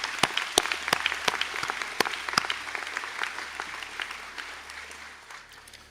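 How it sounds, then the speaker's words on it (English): Applause from graduates and guests at a college conferring ceremony, a dense, sustained rush of many clapping hands with a few louder nearby claps, gradually tapering off. "please be upstanding for a round of applause"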